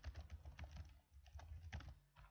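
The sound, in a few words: typing on a computer keyboard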